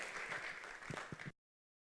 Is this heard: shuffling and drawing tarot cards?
no